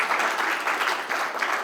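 A crowd applauds during a housing and urban development address to a diaspora investment audience, dense clapping in short swelling bursts that stays fairly loud throughout.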